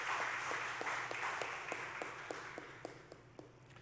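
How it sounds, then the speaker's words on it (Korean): A church congregation at a Sunday afternoon worship service applauds. A broad wash of clapping, with distinct claps poking through, slowly tapers off. "박수 한번 돌리겠습니다."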